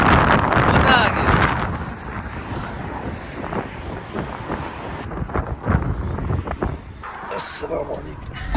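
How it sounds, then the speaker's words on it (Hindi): Strong outdoor wind buffets the microphone at Castle Hill in Bradford, above a lake, as a loud, steady rumbling roar with gusty swells and brief dips, running the whole time. "बाहर हवा बहुत ज़्यादा थी"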